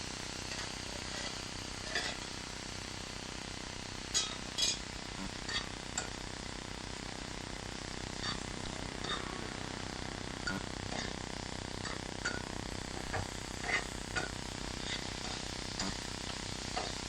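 Frozen chicken pieces sautéing in a pan for a boti burger, with a steady broadband sizzle throughout and a few soft clinks of a utensil stirring against the pan.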